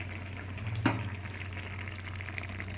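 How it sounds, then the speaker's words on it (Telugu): Rice simmers in a pot on the stove, giving a faint, steady bubbling hiss with one brief clink partway through. "రైస్ ఉడుకుతుంది"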